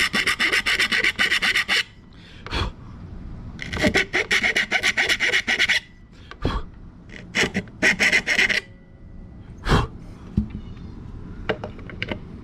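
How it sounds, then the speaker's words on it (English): A metal file rasps back and forth in repeated bursts, enlarging holes in the wooden body of an Epiphone SG guitar, with a few sharp knocks between the strokes and no talking. "Let's get to filing. Some of these holes I don't think are big enough."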